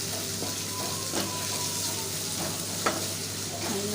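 Onions frying in oil with salt in a pan, a steady soft sizzle with occasional faint clinks and stirring, moderately quiet and close, no talk.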